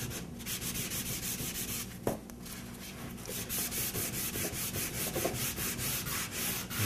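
Stain is rubbed off a primed sheetrock wall with steady, rhythmic back-and-forth scrubbing strokes, close and continuous, with one sharp knock partway through.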